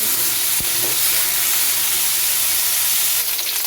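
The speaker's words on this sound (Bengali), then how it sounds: "এবার ডুমো ডুমো করে কেটে রাখা আলুটা দিয়ে ভেজে নিচ্ছি আলুটা লাল করে ভেজে নিচ্ছি" Diced potatoes frying in hot oil with five-spice seeds, a loud continuous close sizzle and hiss with a faint clink of stirring, no talking.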